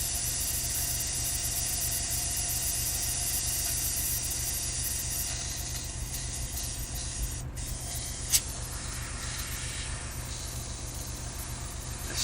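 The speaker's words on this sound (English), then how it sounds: "I'm just cleaning out the airbrush." A hobby airbrush sprays cleaner through its nozzle, driven by a tankless compressor, producing a continuous close, loud hiss that runs steadily throughout with a slight change in texture partway and a brief click near the end.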